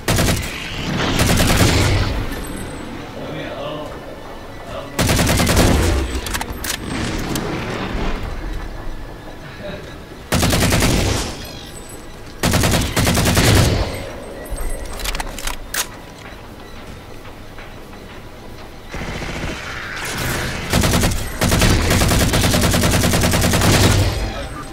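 Loud bursts of automatic gunfire in the shooter Halo 4, repeated sustained volleys separated by short lulls, with game effects and occasional voices between.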